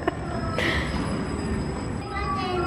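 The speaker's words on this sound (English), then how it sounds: "There's a train." A train rumbles steadily nearby with a brief hiss and faint squeal, while people chatter in the background.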